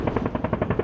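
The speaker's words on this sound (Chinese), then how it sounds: "50机关枪进行扫射。" A .50 caliber machine gun fires a rapid, steady burst from a helicopter during an army aviation live-fire exercise, about nine evenly spaced loud reports in under a second, with rotor noise underneath.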